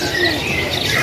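A kolibri wulung bird at a bird market chirps, a quick, loud, close burst of bright tweeting calls.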